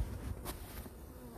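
A dense, continuous buzzing hum of many honeybees fanning at the hive close by, steady and droning without pause.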